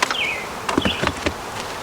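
Honeybees buzz around an open beehive while a cell builder colony is being set up, a near whine with a few sharper flight tones drifting past, steady and soft.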